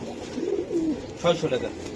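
A male pigeon coos in a few low, rolling phrases close by, with a short louder burst near the end, while someone talks over it at a pigeon sale.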